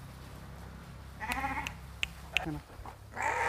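A lamb bleats on a sheep farm, a few short wavering cries close by over a steady low rumble of background noise.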